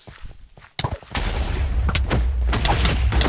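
Explosions in the video game Minecraft burst out in a sharp crack followed by sustained loud rumbling and repeated blasts, close and dense, with faint voices early on.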